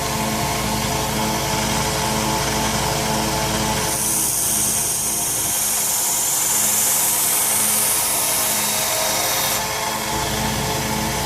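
A 1x30 belt sander grinds a knife bevel with a steady, loud whirring rasp throughout, the abrasive contact brightening and hissing harder through the middle stretch before easing back.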